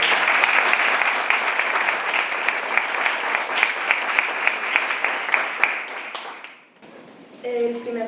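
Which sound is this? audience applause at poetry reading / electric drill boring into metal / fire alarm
audience applause at poetry reading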